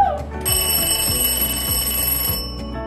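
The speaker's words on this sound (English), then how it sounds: "Let me put it on for you, because this alarm clock actually violates." A loud alarm clock in a college apartment rings in a sustained piercing electronic tone with a rapid repeating pulse, heard alone at full volume across the whole stretch.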